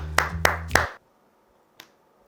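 Three sharp, evenly spaced claps ring out close by, then silence before one fainter single clap.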